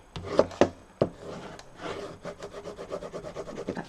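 A paper fold of a pillow box is rubbed hard, first with a few sharp taps and then a quick run of rhythmic scraping strokes, close up and with no talking.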